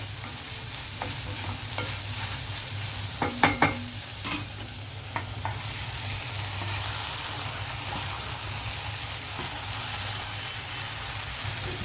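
Amaranth leaves going into a sizzling onion and tomato curry with a steady fry hiss, a burst of sharp scraping stir strokes early on, then an even, continuous sizzle.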